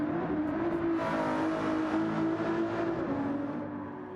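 Race cars in a multi-class sim racing game, engines droning and revving together in a steady, mid-loud hum of several cars, with no voices over it, easing slightly toward the end.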